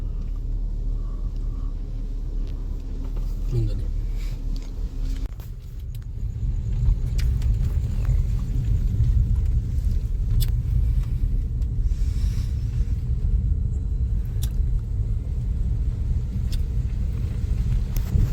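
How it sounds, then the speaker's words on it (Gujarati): Mining trucks carrying mineral loads pass on a road, heard as a continuous heavy engine rumble and road noise that grows louder partway through and stays strong, with no talking. "ખનીજની ગાડી છે 10-11."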